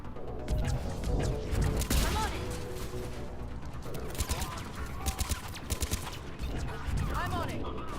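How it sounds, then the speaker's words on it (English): Turret gunfire in the Mass Effect 3 video game, bursts of sharp shots and crashes over a busy combat soundscape, with voices talking amid the noise. "Where's the turret? I hear it."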